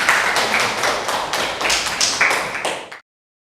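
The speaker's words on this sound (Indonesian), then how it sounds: "Tepuk tangan untuk Nadine." Classroom audience clapping for a student named Nadine during a teaching assessment session, a short burst of dense, fairly close handclaps that carries steadily for about three seconds and then stops abruptly.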